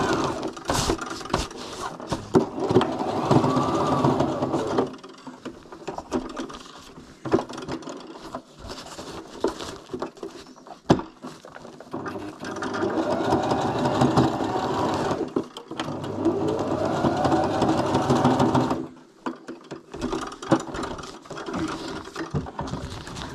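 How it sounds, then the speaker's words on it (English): A sewing machine stitches extra reinforcing seams into the fabric of a dome tent, running in bursts of rapid rattling clatter with short pauses between runs, close up and with no speech. "I'm just using a sewing machine just because it's easier to do"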